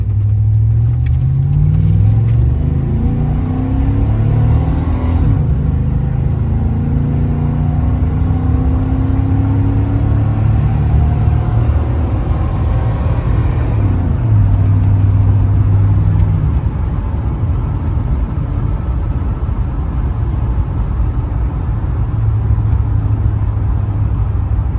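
A truck with a 5.7 liter V8 and a 700R4 automatic transmission accelerates hard and loud. Engine pitch climbs and drops at gear shifts around five and fourteen seconds, then keeps pulling steadily with no talking.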